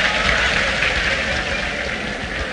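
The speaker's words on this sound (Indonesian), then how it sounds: "Tepuk tangan untuk regu A" Broad, steady clapping from a crowd at a religious gathering, applauding a team, continuous and fairly loud with no clear voices on top.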